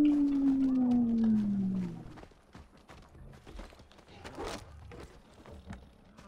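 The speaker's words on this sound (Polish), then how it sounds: "I już słyszę, jak wyją." Wolves howling in the game Far Cry Primal: one long, loud descending howl fills the opening two seconds, followed by quieter rustling, footsteps and scattered game noises.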